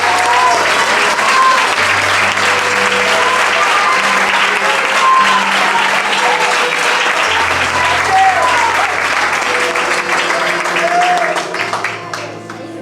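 A large church congregation applauds loudly and continuously, with music playing underneath, before the clapping begins to fade at the end.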